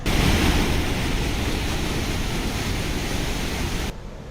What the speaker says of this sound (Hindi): गंगरेल बांध के 4 गेट से पानी छोड़ा गया।